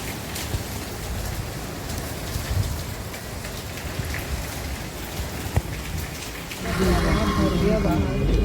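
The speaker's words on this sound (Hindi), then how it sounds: "बारिश हो रही है, कैसे जाएंगे घर?" Heavy rain pouring down outdoors on a flooded street, a dense, close hiss of drops that grows louder and rougher toward the end, with voices heard beneath it.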